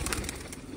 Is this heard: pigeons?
yes